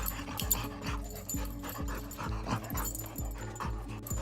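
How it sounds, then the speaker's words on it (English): A dog play-pants rapidly and rhythmically in quick huffing breaths, close by, with faint whimpery tones mixed in. "This phenomenon, known scientifically as play panting, occurs when dogs experience heightened happiness."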